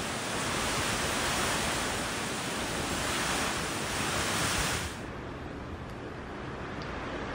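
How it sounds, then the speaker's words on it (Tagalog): Strong typhoon winds from Typhoon Opong roar steadily and loudly as a dense, broadband rush with no speech, then drop sharply in intensity near the end. "Ang lakas ng hangin, kabsat."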